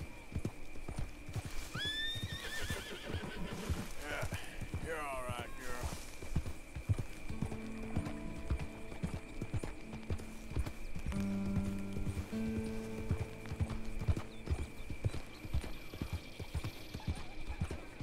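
Rhythmic clip-clop of horse hooves in the video game Red Dead Redemption 2 runs throughout, with the horse whinnying loudly early on, over a faint steady hum and occasional low tones.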